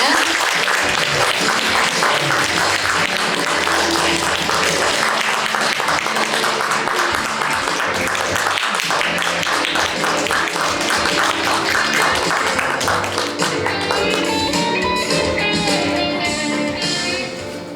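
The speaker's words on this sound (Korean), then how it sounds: "무대 위로 큰 박수로 모시도록 하겠습니다. 박수 부탁드립니다." A large audience at a tuberculosis prevention day ceremony gives loud, sustained applause as three guests are welcomed onto the stage, with dense continuous clapping and music rising underneath toward the end.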